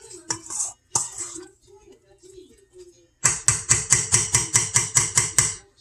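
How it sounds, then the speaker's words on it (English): Turkey meatloaf mixture is spooned and pressed into a loaf pan with a few scattered scrapes, then a quick run of about a dozen sharp, evenly spaced taps and knocks close by, with no talking. "We're going to put it into our loaf pan."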